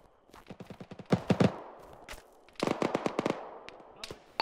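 Gunfire cracks through a military video game firefight in ShackTac's Cold Pursuit, with rapid bursts and scattered single shots at mixed distances and a heavier volley in the middle.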